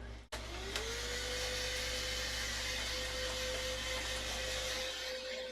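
Steady, loud whine of a handheld vacuum cleaner cleaning dust from an Xbox Series X console, starting after a brief click and running continuously with a rising tone that settles into a constant drone.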